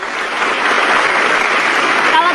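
Audience applause at a talk show, a loud, dense burst of many hands clapping that stays steady throughout, close and full, with no speech on top.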